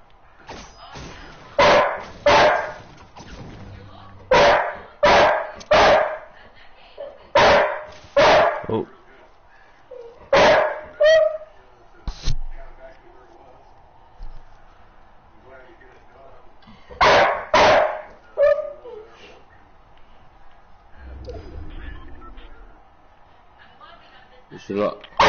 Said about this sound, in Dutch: Waar zit hij op die kast te blaffen?